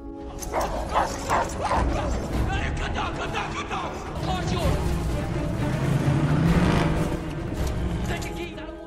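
Two guard dogs bark and yip in an agitated burst during a chase scene in a Transformers film, with whimpers and a car engine beneath, while a narrator speaks over part of it.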